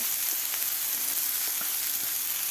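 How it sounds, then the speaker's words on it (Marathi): Finely chopped capsicum and grated carrot sautéing in a pan over medium heat, a continuous bright sizzle with faint stirring taps underneath. "आता भाज्या सुद्धा आपल्याला व्यवस्थित अशा मऊ होईपर्यंत आपल्याला हे परतून घ्यायचे आहेत"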